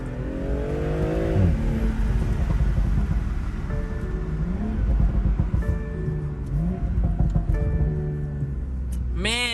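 A BMW M340i revs hard in manual third gear while spinning its wheels on a wet road, the engine climbing and falling in repeated surges, loud and close from inside the car.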